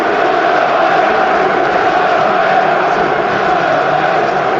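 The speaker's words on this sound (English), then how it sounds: "the crowd are trying to do their bit tonight. Good noise inside St James's Park" Crowd noise from football supporters at St James's Park during a Newcastle United versus Tottenham Hotspur match, a steady unbroken roar that holds at an even level throughout.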